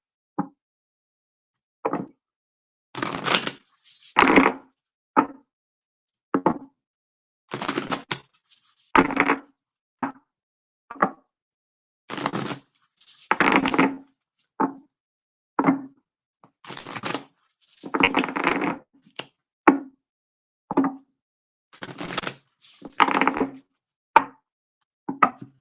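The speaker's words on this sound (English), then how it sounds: "just a couple more shuffles here for Neath, the warrior goddess." Tarot cards being shuffled by hand in repeated short riffling bursts with brief pauses between them, close and crisp in an otherwise quiet room, with no talking.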